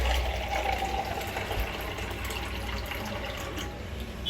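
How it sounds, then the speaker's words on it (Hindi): Water pours steadily into the bowl of a steam inhaler and facial steamer, a continuous splashing fill heard close up without talk. "मैंने इसमें पानी भर लिया"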